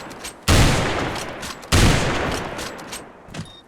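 Two heavy Barrett sniper rifle shots in the online shooter Special Force 2, a booming report about a second apart, each trailing off into a long rolling decay, with faint game sounds in between.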